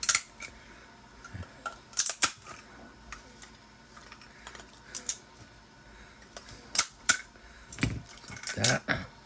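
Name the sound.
cutting support material off a 3D print with a special tool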